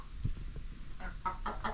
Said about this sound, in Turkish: Şöyle, burası tavukların kaldığı yer.